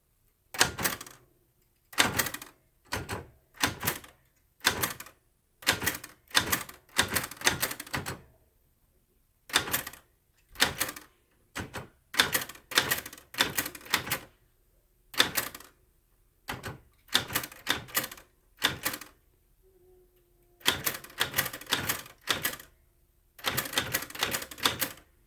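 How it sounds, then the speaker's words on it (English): Typewriter keys clack in quick bursts of close, loud strikes, separated by short pauses across a long stretch of typing. "And then I can just begin typing."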